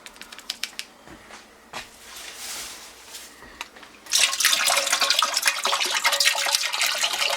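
Beef broth poured into a cooking pot that already holds some water: quiet clinks and taps first, then a steady, close splashing pour that fills the second half.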